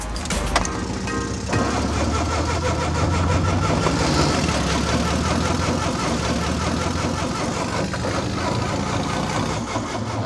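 A small, compact rental dune buggy on an island in Brazil cranks and catches, then settles into a loud, close, continuous idle rattle that runs unbroken for ten seconds.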